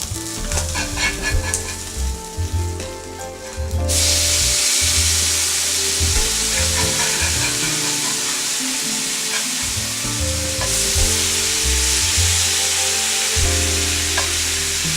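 Alaskan sockeye salmon fillets frying in a pan, a loud steady sizzle that jumps up sharply after a few seconds and continues close up, with some stirring and clatter.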